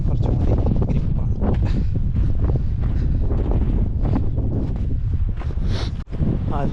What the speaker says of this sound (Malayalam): നല്ല അടിപൊളി കാറ്റും ഉണ്ടാവും.